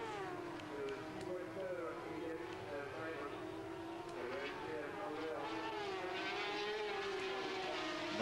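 Sidecar racing outfits at the 1991 FIM Sidecar World Championship at Paul Ricard scream past in a continuous high engine whine, with rising and falling pitch, under a commentator's steady talk.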